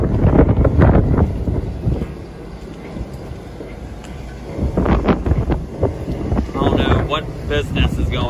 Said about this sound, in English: Very windy day here today.